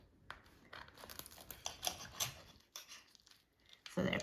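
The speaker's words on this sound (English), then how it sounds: "let me just cut one in half so you see" A knife cuts through an air-fried frozen Korean mandu dumpling with a crisp shell, giving faint crackling and tearing sounds in quick bursts, close and quiet.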